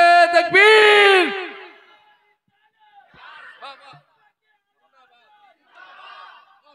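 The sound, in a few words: crowd shouting religious slogan in response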